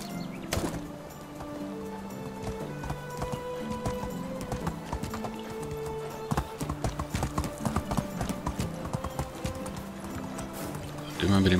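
Horse hooves clip-clopping at a brisk riding pace in the Medieval Dynasty video game, a steady rhythmic patter with an occasional whinny, heard alongside game music and a voice talking over it.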